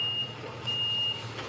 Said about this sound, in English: Oh, I hear the truck.